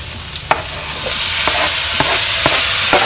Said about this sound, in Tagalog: lagay ko yung kamatis